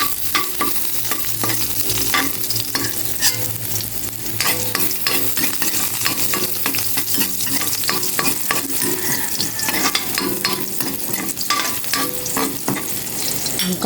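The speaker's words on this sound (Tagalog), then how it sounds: "Igisa ko na itong bawang." Garlic sautéing in a frying pan: a continuous close sizzle broken by frequent rhythmic scrapes and clicks of a spatula stirring, loud and steady throughout with no talking.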